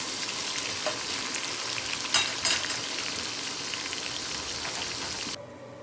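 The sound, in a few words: onion frying in a pan while browning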